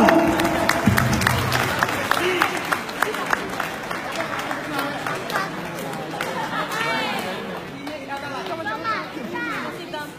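Audience applause breaks out at an East Timorese Fretilin activists' gathering in England, a dense, steady clatter of clapping mixed with crowd chatter and children's voices for the full length.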